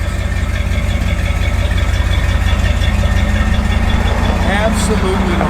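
A 1991 Dodge D150 pickup truck idles steadily and close by, giving a constant low engine rumble throughout with no breaks.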